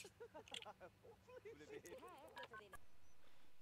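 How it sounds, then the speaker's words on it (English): Quick electronic phone-dialing beeps from The Sims: Life Stories video game, a fast string of chirping tones mixed with game sounds, fairly faint. "Phone, call sim."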